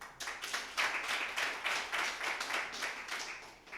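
An audience at a kickoff event for a Black Lives Matter tribute festival gives a round of applause, a steady patter of many hands clapping at moderate volume throughout.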